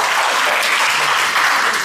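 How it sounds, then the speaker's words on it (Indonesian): A crowd applauds loudly and densely at a seminar session, continuous close clapping that fills the short stretch without pause. "Tepuk tangan lu dong"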